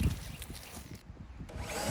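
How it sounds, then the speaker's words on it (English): A power drill runs in a cramped spot inside an RV, its motor whirring steadily for the full two seconds at close range, with no talking over it. "I heard the drill"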